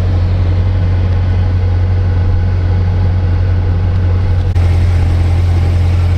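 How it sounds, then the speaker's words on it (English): Engine of a 2022 Chevrolet C8 Corvette running with the rear hatch open: a steady, loud, low idle drone with a strong rumbling hum, unchanging throughout. "I'm hoping the roar of the engine isn't too loud"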